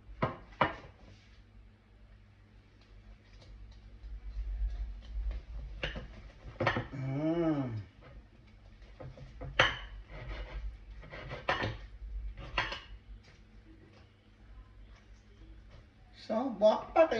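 A knife chopping through oven-roasted lechon pork belly on a board gives intermittent sharp knocks and crackly cuts, some spaced and some in quick runs, heard at close range beneath ongoing conversation.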